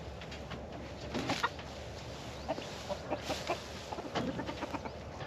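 Chickens of a light breed cluck on pasture, scattered soft clucks and short calls from several birds at close to middle distance, with a faint outdoor background.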